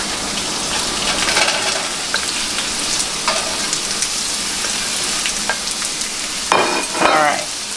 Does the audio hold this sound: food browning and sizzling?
yes